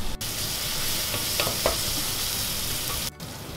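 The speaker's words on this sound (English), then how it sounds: "So my onions are cooking now." Onions frying in a pan for chicken balti give off a steady, close sizzle that runs throughout, with a few soft stirring scrapes near the middle and brief dips in the sizzle near the start and end.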